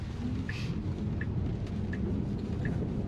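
Rain drums steadily on a Tesla during a drive, a dense continuous wash with low road rumble underneath and a few faint ticks scattered through.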